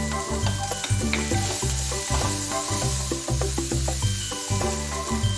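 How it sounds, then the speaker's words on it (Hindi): Vegetables for veg chow mein fry hard in a hot pan with masalas just added, a dense steady sizzle broken by rhythmic scraping and stirring knocks, loud and close, with no talking. "ये अच्छे से फ्राई होगी।"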